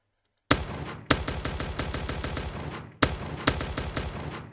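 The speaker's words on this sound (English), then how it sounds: "now this sounds quite like a suppressor" Rapid bursts of automatic gunfire, normal gunshots processed to simulate a suppressor: each burst opens with a sharp crack and the following shots are quieter and muffled.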